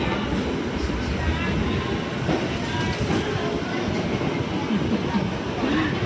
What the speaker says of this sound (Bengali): ট্রেন ছেড়ে দিয়েছে প্রায়গালি বদ্ধপুকুর স্টেশন থেকে